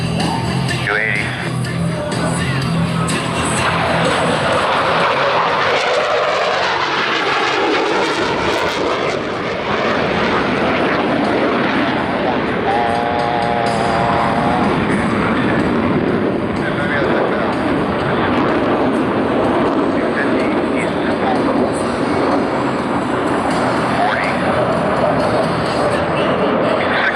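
Blue Angels jets performing at a homecoming airshow, a loud sustained roar of jet engines that swells and shifts as the aircraft pass, with an announcer talking over it throughout.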